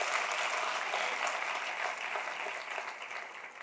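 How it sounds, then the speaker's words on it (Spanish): Church congregation applauding for a preacher, a dense steady wash of clapping that holds through and eases slightly toward the end, with no talk over it. "Denle un aplauso al Rey bendito."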